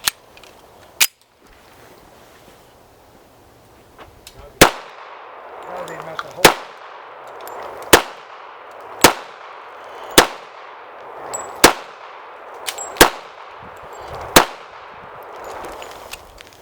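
Norinco 1911 A1 Commander pistol fired at a range: about nine sharp, loud reports at roughly one-and-a-half-second intervals, each with a short ringing decay, plus an early pair of shots and faint background noise between them.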